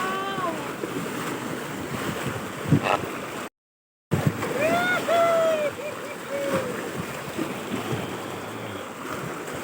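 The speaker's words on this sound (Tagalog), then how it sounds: "Lakas ang hangin eh!" Strong wind roars and buffets the microphone near the sea, with surf churning underneath and people shouting and whooping over it.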